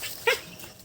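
A dog gives one short bark or yip near the start, close by, followed by quieter whimpering sounds against a low background, set on a rural farm where other dogs are around.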